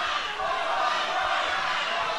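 Wrestling crowd at an NWA Midwest Championship Wrestling event in Marion, Ohio, a dense roar of voices chanting together in a large hall, steady and loud throughout.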